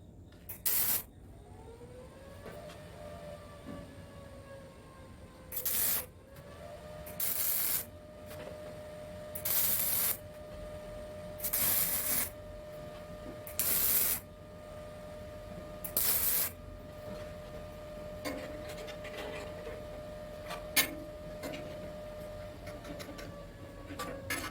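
Tack welding on the top part of a reverse flow smoker, short bursts of crackling arc hiss in an irregular series of about seven tacks, over a steady background hum, no speech.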